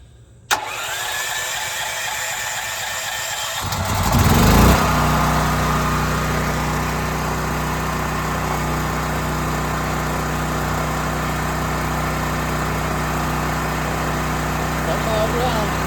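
A Westinghouse 9500DF generator converted to run on natural gas cranks and catches almost at once. Its engine then drones steadily, loud and close, with a brief surge a few seconds in before it settles into an even run.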